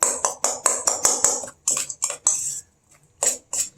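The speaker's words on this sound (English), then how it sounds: "So then you mix this up with your first can of tuna." Chopped ingredients being stirred into canned tuna with a utensil in a bowl, a quick series of sharp clinks and scrapes with brief pauses, close and fairly loud.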